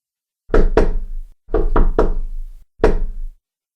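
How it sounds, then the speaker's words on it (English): Knocking on a door comes in three groups, two raps, then three, then one, each sharp and close with silence between. "Knocking of the door."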